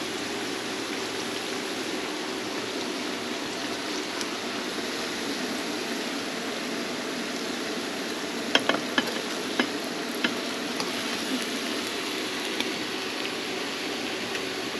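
A gluten-free pork chop fries in hot oil, a steady hiss of sizzling and bubbling with a few sharp pops and crackles partway through, continuous and fairly close.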